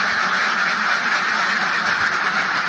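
Laying ducks quack steadily as a dense, continuous flock chorus during evening feeding, a loud, unbroken wall of overlapping calls with no voices.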